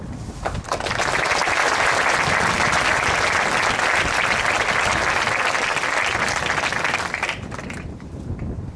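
Audience applause at a 2011 Veterans Day ceremony welcoming a speaker, a loud, dense burst of many hands clapping that swells quickly, holds steady for several seconds, then tapers off.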